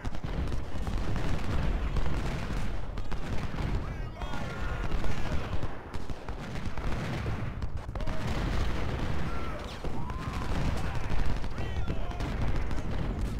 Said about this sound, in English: all guns should be shooting at their artillery